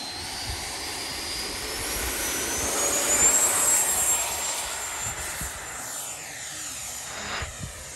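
A Freewing Eurofighter Typhoon 90mm EDF model jet on a 6S setup takes off, its ducted fan giving a steady loud whoosh and whine that swells mid-run and then eases as it climbs away.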